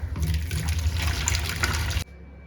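Water rushes and splashes steadily while kavuni black rice is washed in it, loud and close, then stops abruptly to near silence, with no voices.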